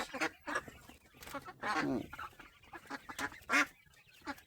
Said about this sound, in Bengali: এই যে এখানে হাঁস আছে, অনেক অনেক সুন্দর হাঁস দেখছেন, বিশাল হাঁস